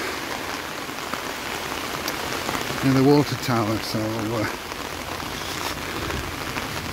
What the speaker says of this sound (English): Then we've got a bit of a downpour now, but I'm under the umbrella here